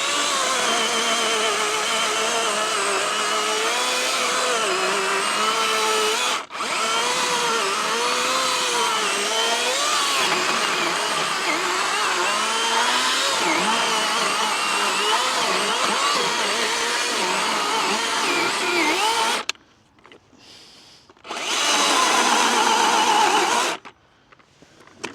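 A Dewalt chainsaw cuts into wood, its engine droning loudly and wavering in pitch as it labours through the cut, then cutting out briefly before revving again for a few seconds.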